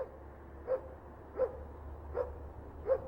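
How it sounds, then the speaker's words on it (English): A dog near the old Woodyard Market barks at a camera: four single barks evenly spaced under a second apart, moderately distant, over a low background hum. "Ooh, there's that mean dog."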